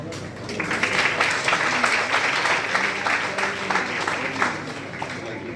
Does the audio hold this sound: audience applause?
yes